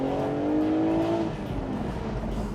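A BMW Z4 M40i roadster punched hard on a street, its exhaust rising in a loud, close engine surge that climbs in pitch for about a second, then settles into a rougher, steady rumble.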